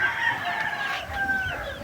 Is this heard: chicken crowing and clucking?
yes